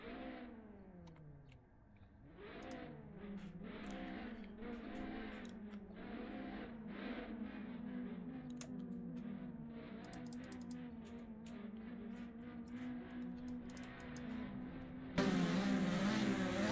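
Race cars lapping Laguna Seca in the Assetto Corsa racing game, engines revving up and shifting in rising pitch sweeps, then settling into a sustained high drone with brief clicks, loud and continuous with no talk.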